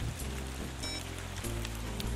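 Steady rain patters on a surface in a dense, even wash, with a faint low rumble underneath and no voices.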